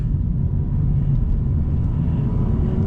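Honda Civic Type R FD2 cruising on a road east of Tokyo, heard from inside the cabin as a steady low engine and road rumble, constant and unbroken.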